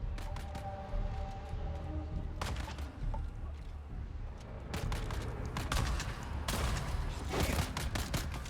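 Bursts of gunfire ring out in the desert survival video game Dune: Awakening, several separate volleys spaced across the stretch over a steady low background rumble.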